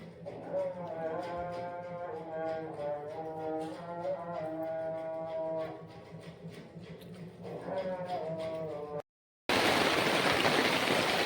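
After a long, melodic chanted call to prayer and a brief cut to silence, the season's first rain begins as a loud, dense, steady hiss.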